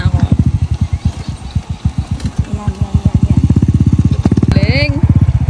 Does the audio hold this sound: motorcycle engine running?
yes